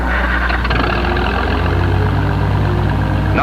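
The experimental XO-121 engine in a conventional Oliver tractor runs at a steady, loud drone with a low rumbling core and an even, continuous hum, no pauses and no voices.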